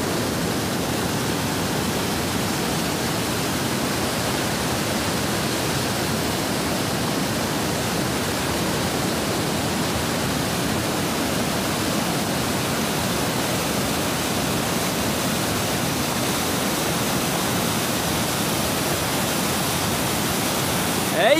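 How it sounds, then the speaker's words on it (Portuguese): Powerful waterfall at Pedra Cavalo Mago on the Rio Salamão roars as a dense, constant broadband rush of water, steady and unbroken throughout with no voices over it. "A força da água é um absurdo, pessoal."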